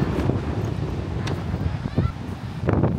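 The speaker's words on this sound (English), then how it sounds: "It's quite a blustery day, so I really don't know what the sound quality is like." Blustery seaside wind near Penzance rumbling hard against the microphone in uneven gusts, with muffled surges of noise near the shore.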